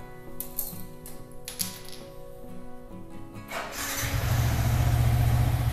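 Yamaha R15 motorcycle engine being started, a few mechanical clicks and starter whirring followed by the engine catching and settling into a loud, steady close-up idle.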